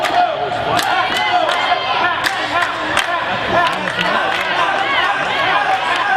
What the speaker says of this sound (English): This crowd trying to get behind Ashley Sixx